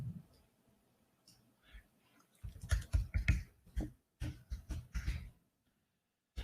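Quiet, irregular bursts of keystrokes on a computer keyboard come in uneven clusters of clicks and pauses, faint and close, with no talk.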